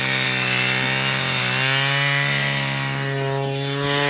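A motorized ice auger drills holes through lake ice in Alaska, its loud, steady engine whine holding close and continuous, with the pitch shifting slightly as the bit bites in.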